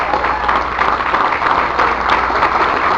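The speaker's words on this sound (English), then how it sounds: "give them a big, huge round of applause" Audience applause filling a room, a steady dense wash of clapping that holds at a fairly even level throughout, with no voices over it.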